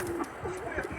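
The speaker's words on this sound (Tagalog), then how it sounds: "nadatnan ko tong dalawang kalapati ko nakawala" Two loose pet pigeons squabbling with their older grandsire give a short, close coo over a steady background hum.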